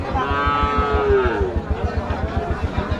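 A cow moos loudly with a long, drawn-out call at a cattle market, over steady low thumping and background bustle.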